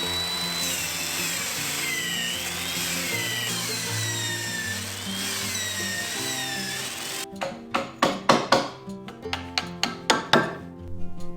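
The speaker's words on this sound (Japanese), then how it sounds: "柱と同じように線穴をドリルで開けて、そして細穴を穴掘りで掘っていきます" A power tool works timber for a hand-cut woodshed frame built without metal fittings, first as a steady whining drone, then as a burst of sharp, rhythmic cutting strikes that rise and fall close by.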